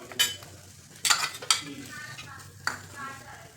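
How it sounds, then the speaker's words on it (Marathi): Onion goes onto a hot, dry griddle for roasting: a few sharp clattering drops and scrapes, then a faint, soft sizzle in a quiet kitchen. "तापलेला आहे, त्यावर आपल्याला कांदा घालायचा आहे."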